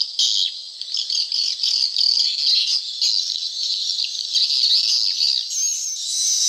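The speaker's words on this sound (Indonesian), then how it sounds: "Burung walet dia bisa meniru suara piyik ini teman-teman." A recorded swiftlet chick call, played back to lure swiftlets, gives a continuous high, shrill chirping chatter in rapid, uneven bursts, fairly loud and close and with no voices.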